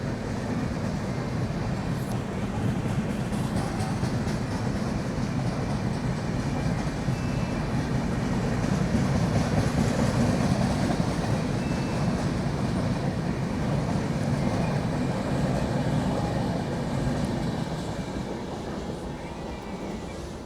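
An Indian passenger train overtaking at Laxmibai Nagar station, heard from inside a general coach on the Indore to Gwalior night journey, gives a steady loud rumble of wheels and carriage noise throughout.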